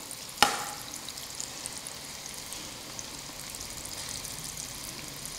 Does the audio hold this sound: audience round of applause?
no